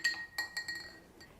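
Ice cubes clinking against a glass for a summer strawberry drink, several bright, close chinks in an irregular cluster, with no talking.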